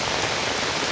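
Torrential rain pours down in a village, a thick, unbroken roar of downpour, loud and close, with nothing else heard.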